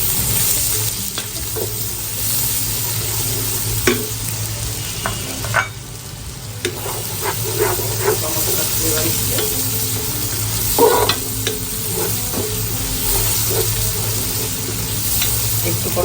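About a cup of onions fry with spices in a pot for a raw jackfruit masala curry, a loud continuous sizzle under frequent scraping stirs and spoon clatter, close up.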